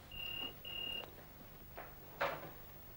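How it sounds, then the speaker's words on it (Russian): An electronic telephone rings indoors in a 1983 drama, giving two steady high-pitched tones that each last about half a second, separated by a brief gap, followed by faint room noises. "телефон."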